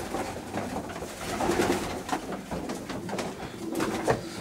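Young racing pigeons, about three to four months old, coo steadily inside a loft in Târgu Mureș, Romania, a dense, close chorus of overlapping soft rolling calls.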